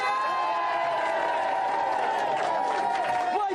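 A studio audience at a 1993 games show cheers and applauds in a dense, sustained roar that fills the whole stretch at steady loudness, with whoops and a voice over the crowd.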